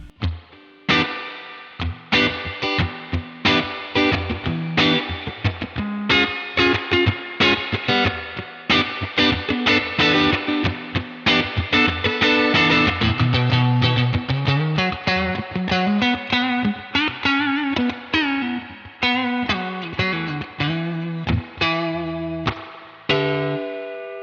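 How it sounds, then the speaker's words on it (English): Electric guitar played through a Universal Audio spring reverb pedal modeled on a '65 amp reverb, with strummed chords and picked single notes that ring out with a wet, drippy spring tail between phrases, alone and close. "every bit as drippy and springy as you would ever want a spring reverb to sound"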